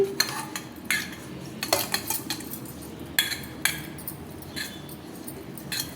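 A metal spoon scrapes and clinks against a bowl in short, irregular strokes while spreading ghee around it, close and fairly quiet, with no talking.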